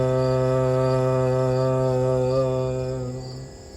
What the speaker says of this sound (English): use this harmonium or app or whatever and actually go up the notes